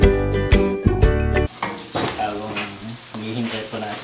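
Onions and fish balls fry in a pan for dilis fried rice: a few loud metallic clanks at the start, then steady close sizzling with bursts of stirring scrapes.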